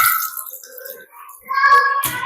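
Water is poured into a one-litre container at a government school, a splashing fill that swells in the last second, with children's voices nearby.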